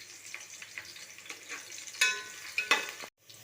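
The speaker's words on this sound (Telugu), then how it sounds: "ఉల్లిపాయలు కూడా ఫ్రై అయినాయండి." Onions and green chillies fry in hot oil with whole biryani spices, a steady soft sizzle broken by a few sharper crackles near the end before cutting to silence.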